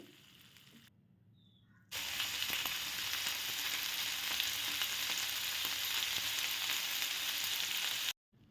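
Kerala-style fish frying in a pan, a loud steady sizzle with crackling oil that starts abruptly after a quieter stretch and runs for several seconds before cutting off.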